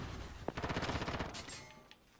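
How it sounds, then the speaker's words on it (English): Gunfire in Call of Duty Modern Warfare on the Rust map in a Hardpoint match, a rapid automatic burst of shots rattling over about a second, fairly close, followed by a sharper crack, no talk. "I'm being shot at."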